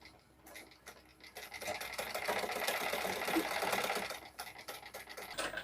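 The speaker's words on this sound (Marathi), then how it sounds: "इथून फोल्ड करून घेऊन तिथून शिलाई देऊन घेत आहे" Sewing machine stitching a folded blouse strip, a steady close mechanical whirr that swells in the middle and eases off near the end, with brief pauses at the start, no talking.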